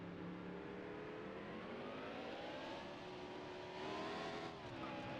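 A race truck engine in the Dirt to Daytona video game drones and revs steadily as the truck pulls out of the pit, its tone rising gradually, loud and continuous with no talk.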